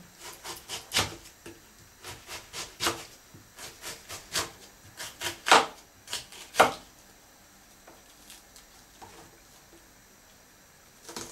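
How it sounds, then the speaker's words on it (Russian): Sharp knife strikes on a cutting board as an onion is diced, a steady run of close chops with short pauses, then a few scattered taps near the end. "Лук нарезаем кубиками"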